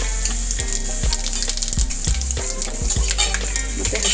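Mustard and cumin seeds sizzle in hot oil, with cashews already in the pan, for a tangy mango rice tempering: a steady, close crackle with frequent sharp pops.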